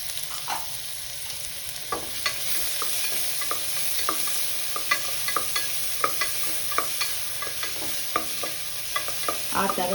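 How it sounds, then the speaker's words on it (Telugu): Onions frying in hot oil with cloves and cumin while being stirred for tomato rice: a steady sizzle runs throughout, broken by frequent spoon scrapes and clinks against the pan, close up and with no talking. "లవంగం, స్వాజీరా వేసేసుకుందాం, అలాగే ఉల్లిపాయలు వేసేసుకుందాం."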